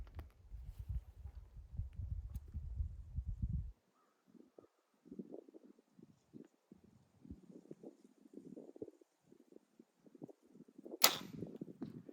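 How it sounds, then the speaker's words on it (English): An archery arrow is shot from a bow at a 60-yard target: one sharp, bright release snap near the end, after a low rumble and scattered faint outdoor noises. "let's shoot one more arrow"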